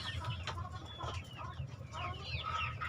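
Chickens clucking in a coop, with a few scattered clucks and short calls over a steady low background hum, moderately close and fairly quiet.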